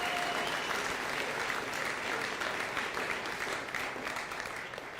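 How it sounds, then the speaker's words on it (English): A seated audience at a county jail graduation ceremony claps steadily in a continuous, dense wash of applause that fades a little toward the end, heard from within the room. "Now you can cheer."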